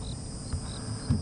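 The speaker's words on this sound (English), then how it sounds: "The insects have started, the crickets and the cicadas." Crickets and cicadas chirp at dusk in the African bush, a steady high-pitched insect drone with faint thumps beneath it.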